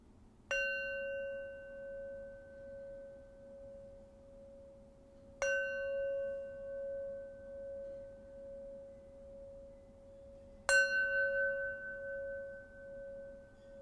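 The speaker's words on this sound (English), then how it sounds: "let's draw our practice to its close with 3 rings of the bell" A meditation bell is struck three times, evenly spaced several seconds apart, each strike a clear pure tone that sustains and slowly fades over a quiet background.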